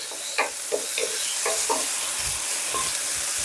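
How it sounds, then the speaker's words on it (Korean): Onion and vegetables for sweet and sour pork tossed in a hot wok, a loud dense hiss of frying under repeated quick metal scraping strokes, close and steady. "자, 볶아줍니다."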